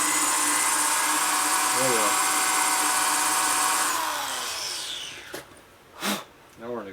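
Power drill boring through aluminum on a 2001 Gilroy Indian motorcycle part: a loud steady high whine for about four seconds that winds down, followed by short bursts, with a brief voice near the end.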